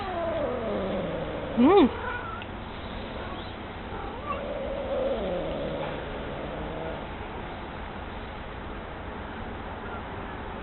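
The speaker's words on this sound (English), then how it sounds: "Might I remind you that these are wild cats." A feral cat gives a sharp, loud yowl early on, then quieter drawn-out meows and wavering cries trailing off, with brief human murmurs in a quiet indoor space.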